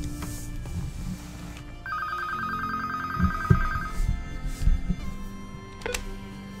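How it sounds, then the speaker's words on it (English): In-game telephone ringing in Fallout 4, a steady electronic ring repeating from about two to four seconds over low background game music and thumps, moderately loud. "Phone call."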